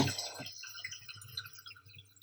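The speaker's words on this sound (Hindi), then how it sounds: "अब हम इसमें गलने का पानी डाल देते हैं।" Water is poured into dry, fried mutton in a pan for Rajasthani laal maas, opening with a brief sizzling splash and then settling into faint, soft bubbling and dripping.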